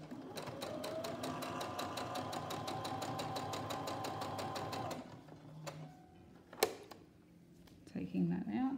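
A sewing machine stitching a fabric rhino mask runs steadily and close for about five seconds with a rapid even chatter, then stops, leaving small handling clicks, a sharp knock and faint rustling.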